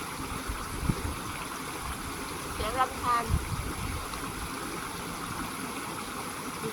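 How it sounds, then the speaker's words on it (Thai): Steady broadband rush of a flowing stream fills the scene, with a brief faint voice or sound near the middle. "ได้ยินเสียงอะไรไหมคะลำธาร"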